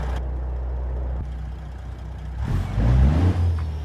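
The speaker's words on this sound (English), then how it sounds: "Oh, I can hear a cat motor now." A Caterpillar truck engine in American Truck Simulator drones with a deep, steady rumble that swells as it revs near the end.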